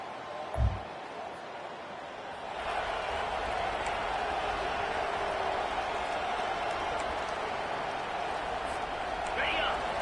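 A football stadium crowd roars in a steady, broad wash of noise for Ohio State against Michigan, swelling after a short thump near the start and holding loud to the end.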